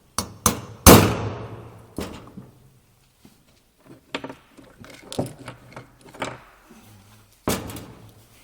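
A small tool taps the variable geometry bolts on a turbocharger turbine: sharp metallic clicks and knocks up close, a few strong strikes early, then scattered lighter taps with pauses between them.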